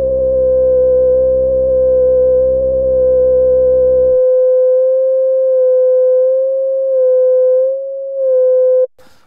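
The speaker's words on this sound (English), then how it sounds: "there's a slight change in tone, about a semitone just under it, where as you go into maximum resonance, it dips down a little" ARP 2600 synthesizer producing a steady, pure tone that loses its buzzy lower harmonics midway as the filter reaches maximum resonance, leaving a clean whistling sine-like pitch with slight dips, loud and alone before an abrupt cutoff.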